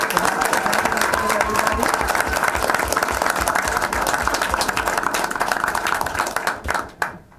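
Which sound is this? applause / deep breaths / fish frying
applause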